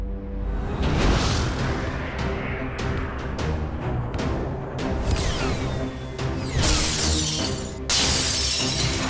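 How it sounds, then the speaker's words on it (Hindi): Cartoon motion-tracking missile launched to chase a football, heard as loud whooshing, crashing bursts with a bright shattering burst near the end, running continuously with no talk. "इस बार मोशन ट्रैकिंग मिसाइल फायर करता हूँ।"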